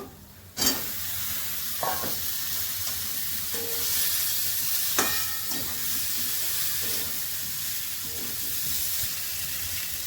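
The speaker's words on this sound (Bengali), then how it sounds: "ভাজা কপিগুলো এর সঙ্গে কষিয়ে নেব।" Fried cauliflower sizzles loudly and steadily in a hot pan with turmeric, coriander and chilli powder, with a few clanks and scrapes of a spatula stirring it.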